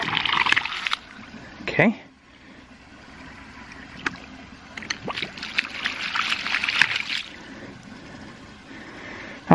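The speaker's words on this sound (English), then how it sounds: "we can go ahead and let some of the air out of the drive pipe" Air and water sputtering out of a ram pump drive pipe into a bucket, irregular gurgling and splashing bursts at close range, with a person speaking briefly over it.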